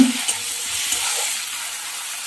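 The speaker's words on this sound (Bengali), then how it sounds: "এটাকে আমি এখন ভালো করে কষে নেব মশলাগুলো।" Onion paste and spices fry for a Katla fish curry, a soft continuous sizzle with light stirring scrapes near the start, no talking.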